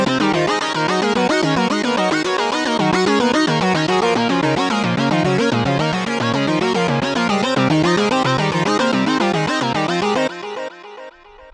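DCAM Synth Squad synthesizer patch with its Animator sequencer triggered from a keyboard, a loud, dense, rhythmic pulsing pattern of repeating notes that runs steadily and then cuts off into a brief decaying tail.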